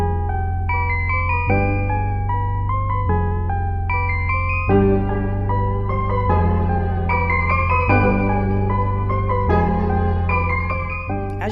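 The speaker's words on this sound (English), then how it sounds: "A polar-powered Combinator 2 refill that can twist your melodies, warp your chords, and send your beats drifting through time." Synth chords and a melody drift and waver in pitch under a warped-tape effect from the Drifter Combinator 2 refill in Reason 12, with sustained bass notes and sliding, wobbling upper tones playing steadily without any voices.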